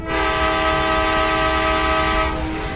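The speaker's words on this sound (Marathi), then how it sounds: "तर मित्रांनो परत एकदा हॉर्न वाजूया." A train horn in the Indian Bike Driving 3D video game blares as one long sustained harmonic tone over rolling rail noise, loud and close, cutting off near the end.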